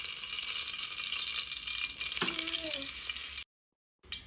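Ghee and Dalda sizzling in a pressure cooker for a special cooker biryani, a steady bright crackle with a brief clink of a utensil, then it cuts off before a short return.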